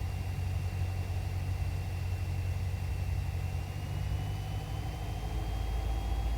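Steady low engine drone of a Cessna 172 light aircraft's engine running during student pattern practice, continuous and fairly loud throughout with a faint high tone above it, no talk.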